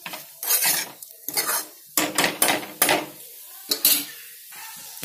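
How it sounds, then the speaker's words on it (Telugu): Fried rice masala made with leftover rice is stirred in a pan, with loud, close bursts of a metal spatula scraping and clanking against the pan in uneven strokes and short pauses between, and no talking. "ఒక్క 5 మినిట్స్ కొంచెం కలుపుకోవాలి"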